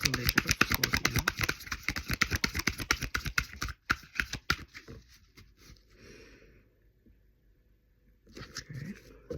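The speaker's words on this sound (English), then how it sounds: "Do another fast shuffle." Tarot cards being shuffled fast: a quick run of crisp riffling flicks that stops partway, followed by quieter shuffling, brushing and handling of the deck, close up and with no voices.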